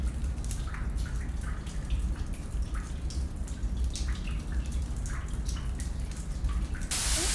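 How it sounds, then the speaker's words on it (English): Underground waterfall in Indiana Caverns, nearly four stories tall, pouring steadily inside the cave, a constant dense rush with scattered drips and splashes standing out near the listener. "There's our waterfall, nearly 4 stories tall."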